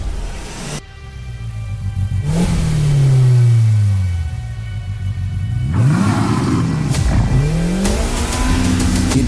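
Polaris RZR Pro R and Turbo R side-by-side vehicles, 2022 models, with engines revving and accelerating hard in repeated rising and falling sweeps, loud and close, with a deep rumble under the high whine.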